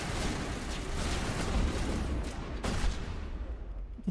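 Weapon fire in Mass Effect on a cold planet, a dense rumbling barrage of shots and blasts sustained for several seconds, with a sharper burst near the end before it thins out.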